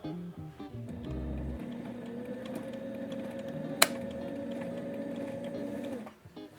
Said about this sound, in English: take it over to our sewing machine and sew a stitch down either side